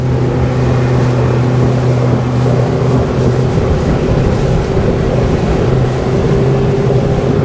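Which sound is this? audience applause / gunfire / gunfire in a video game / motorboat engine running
motorboat engine running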